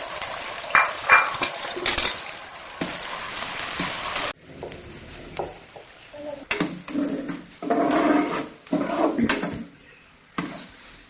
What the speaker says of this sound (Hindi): ऑयल हमारा तकरीबन गर्म हो चुका है। अब हम इसमें ऐड करते हैं प्याज।